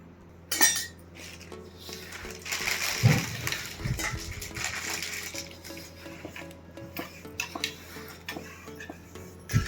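Garlic is stirred through pieces of mango pickle in a dish, giving irregular clinks, taps and scrapes of a spoon against the vessel, close and fairly quiet, with no talking.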